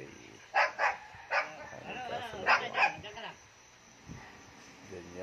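Dogs give a few excited barks and yips in greeting near a parked car, loud at first and then tailing off into softer whines, while a person talks over them.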